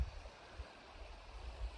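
Little Salmon River flowing past a forest campsite, a steady low rushing wash of stream water with no talk, fairly quiet and continuous throughout.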